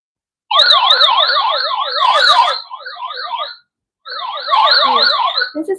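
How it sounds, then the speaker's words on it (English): A Global-PTT walkie talkie's SOS alarm blares a loud, close wailing electronic siren tone, cycling rapidly up and down, breaking briefly partway through before resuming. "This is SOS alarm"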